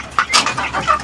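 Young pigeon squabs around two months old in a home loft give a few short, close chirping calls and soft clucks, scattered over about a second with no talking.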